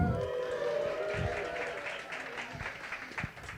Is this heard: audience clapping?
yes